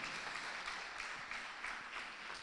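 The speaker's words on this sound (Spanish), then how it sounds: "dele fuerte el aplauso." A church congregation applauds, with steady broadband clapping running through the whole stretch at moderate distance and no clear voice on top.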